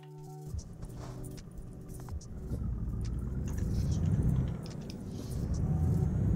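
A truck drives in a video game, its engine a low steady rumble that builds gradually, with light rattling and clicking over the top and no voices.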